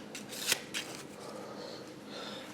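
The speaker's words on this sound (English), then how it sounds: "all you're doing is you're peeling the top card off" The top card is peeled off a deck of playing cards during a close-up card and coin trick, giving a few soft, quick papery flicks and snaps up close, with quiet background afterward.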